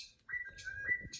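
Birds chirping from a television set, a thin, steady whistle-like call held across most of the short moment, fairly quiet with low room rumble beneath.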